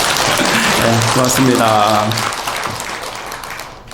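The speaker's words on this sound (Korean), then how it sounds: "네, 박수 크게 치셔도 돼요." Audience applause at a Sunday Dharma service at Geumgangjeongsa temple, steady broadband clapping under a voice speaking through a PA, the clapping thinning and fading toward the end.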